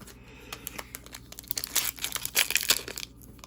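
A Strixhaven card booster pack is torn open up close, with sharp foil crinkles and tearing bursts that build over a few seconds.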